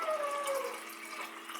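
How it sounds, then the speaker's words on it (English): Water runs steadily from a tap into a Mexican terracotta clay pot, a soft continuous rushing and gurgling heard close and alone, with no voices. "So we're gonna fill it up with water."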